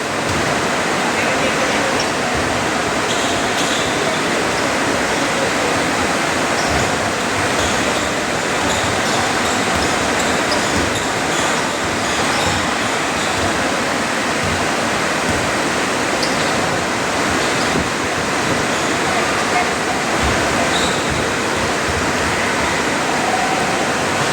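Steady, loud rushing water flows and drips continuously with a dense broadband roar, like heavy runoff or a stream, with faint voices barely audible beneath it.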